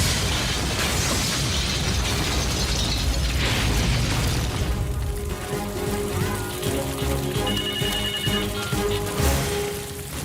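A bomb blast erupts in a loud, broad roar that rumbles for several seconds, then fades into a lingering mix of debris noise and faint tonal whines.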